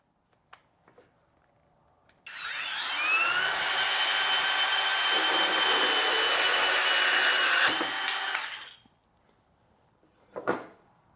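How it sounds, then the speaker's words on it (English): A Kobalt 24V cordless bandsaw whines up and cuts through a piece of wooden trim for about six seconds, a loud steady buzzing rasp that stops abruptly, framed by faint clicks and handling knocks before and after. "now I'm going to try cutting this piece of trim"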